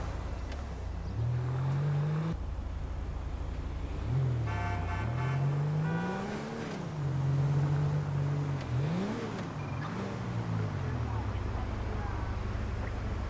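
A car in GTA V heads onto the freeway, its engine rising and falling in pitch as it accelerates and shifts, with a brief horn-like tone and someone talking over it.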